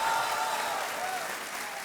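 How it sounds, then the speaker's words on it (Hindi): A studio audience on a televised quiz show applauds steadily, a dense even wash of clapping that holds at the same level throughout. "तालियों के साथ इनका अभिनंदन।"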